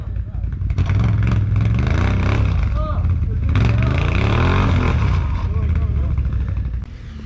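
ATV engine revving hard on a snowy winter trail, loud and close with a rough, wavering pitch as it strains, while people talk over it.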